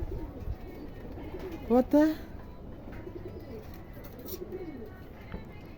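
Pigeons on a rooftop give a brief cooing burst near the middle, rising and falling, over a steady background murmur with a person talking briefly nearby.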